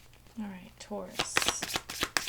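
Crystal reading cards are shuffled in quick, crisp riffles and taps after someone speaks briefly at the start.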